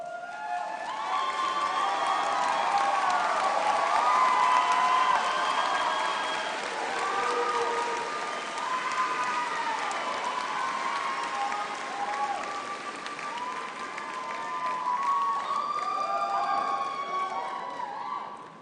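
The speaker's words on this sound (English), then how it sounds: "that they would stand and that we would give them a round of applause" A graduation audience applauds campus staff for a long stretch, with steady clapping, scattered whoops and cheers rising and falling throughout, then tapering off at the very end.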